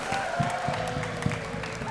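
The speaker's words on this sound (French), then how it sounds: "On peut l'applaudir." A crowd applauds at Japan Expo after a 1-2-Switch game challenge winner is announced. Scattered, fairly faint clapping comes from a distance with light crowd murmur.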